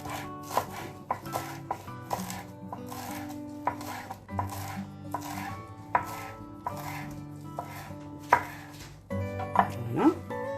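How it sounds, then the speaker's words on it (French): A knife chops parsley and coriander on a board in a series of crisp, close taps with a loose irregular rhythm. Faint kitchen clatter comes through near the end. "Maintenant, je vais couper mes herbes. Le persil et la coriandre."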